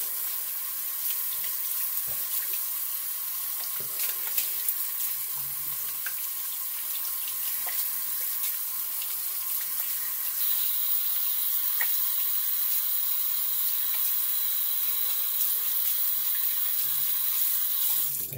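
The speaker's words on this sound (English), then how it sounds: "And then I rinse off." Tap water runs steadily into a sink while someone rinses off after a shave, a continuous hissing flow with small splashes and clinks, fairly close and unbroken for the whole stretch.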